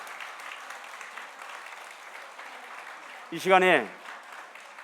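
A church congregation at a retirement and honorary pastor ceremony claps steadily at a moderate distance for a few seconds, then a voice speaks briefly over the fading applause.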